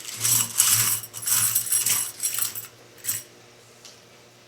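Metal knitting-machine needles and pushers clink and rattle as they are spread out on a cleaning towel, bursts of close metallic jingling that fade to quiet toward the end.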